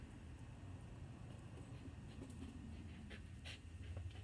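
A dog panting steadily and rapidly at close range, a continuous breathy rhythm with faint background rumble and no talk over it.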